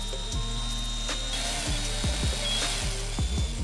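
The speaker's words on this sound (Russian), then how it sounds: "Из старой игрушки мы достали вот такую шестеренку, в ней проделываем отверстие." A small drill bores a hole through a plastic gear salvaged from an old toy, with a steady low motor hum and repeated clicking ticks as the bit catches, close and continuous.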